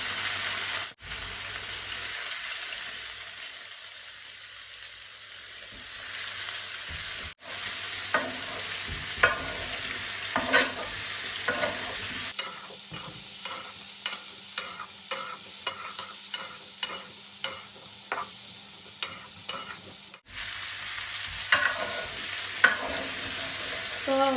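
Cauliflower frying in a pan gives a continuous close hiss and sizzle, broken by a run of regular scraping stirs in the middle and a few louder clatters, with no voices.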